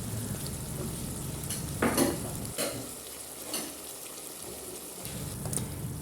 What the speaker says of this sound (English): I have to stir again since the food has been boiling and it was covered.